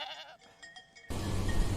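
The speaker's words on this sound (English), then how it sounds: "This is a goat." A domestic goat bleats once, fairly close and clear, with a short wavering cry, followed by a louder burst of broadband noise.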